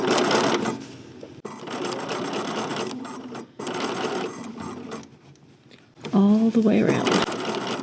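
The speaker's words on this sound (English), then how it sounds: "we're sewing this at 1/2 inch" A sewing machine stitching a sleeve band seam at a 1/2 inch allowance, running in steady bursts with short pauses, close and clear, while a person talks over it.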